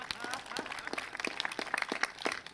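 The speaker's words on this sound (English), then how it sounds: "Give Nicole a big round of applause" Scattered, fairly faint clapping from an audience at a public event in Delaware, individual claps sounding sparse and uneven over quiet room noise.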